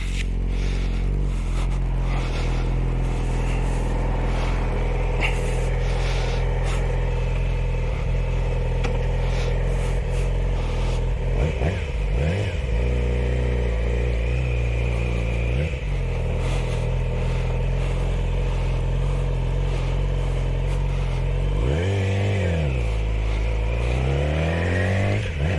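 A Yamaha R6 600cc motorcycle engine drones steadily while riding, with repeated rev dips and rises as gears change, under heavy wind noise throughout.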